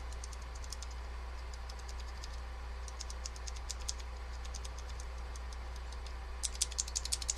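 Clicky Alps switches on a restored Focus FK-2001 keyboard clatter in faint, quick bursts of keystrokes over a steady low hum, the typing picking up into sharper clicks at the end.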